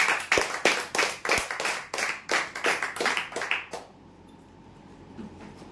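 A small audience clapping for prize winners at a customer lucky draw, a few seconds of close, fairly sparse rhythmic hand claps that stop abruptly, leaving quiet room tone.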